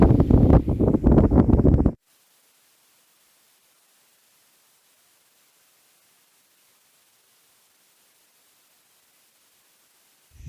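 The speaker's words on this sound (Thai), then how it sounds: "ลมแรงมากครับ" Strong wind in a high mountain forest buffets the microphone: a loud, rough two-second roar of gusty rumble that cuts off abruptly into near silence, with a brief swell returning at the very end.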